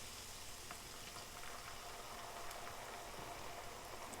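Water poured into a hot skillet of bacon mixture while making a beef Wellington burger gives a steady, close sizzle and fry hiss that runs evenly throughout with no talk.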